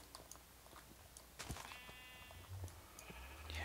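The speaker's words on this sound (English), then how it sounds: "We got sheep. I don't want the sheep." Sheep in the video game Minecraft bleat in a short run of wavering calls mid-clip, with a faint game tone near the end, over a low background and soft clicking of keys.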